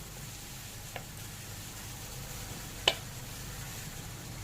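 Potatoes land in a pan of prawns and banana flower for chingri mochar chop, a steady low sizzle of frying with faint stirring scrapes and one sharp clink near the end, no voices.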